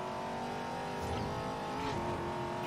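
A supercar engine drones as it races off-road in the Forza Horizon video game, a steady, loud sustained tone with slight pitch shifts as it accelerates.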